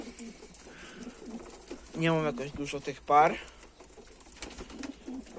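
Pigeons in a loft give two short, clear coos a second apart, with a quiet murmur of someone talking around them.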